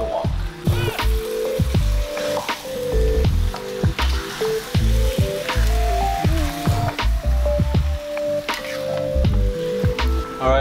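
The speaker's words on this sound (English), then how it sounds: "once we've got the wheat into the wok, we just wanna stir fry the entire thing" Ingredients for a Malaysian Hainanese mutton stew are stir-fried in a wok, with loud, close sizzling and spattering broken by scraping and clanking strokes of the spatula against the metal.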